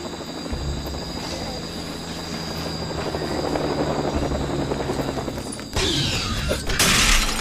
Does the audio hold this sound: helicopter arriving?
yes